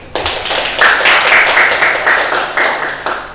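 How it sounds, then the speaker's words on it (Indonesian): Clapping from a small audience in a university guidance and counselling class session, a close, fairly loud run of claps with uneven swells that tapers off. "bisa tepuk tangan dulu."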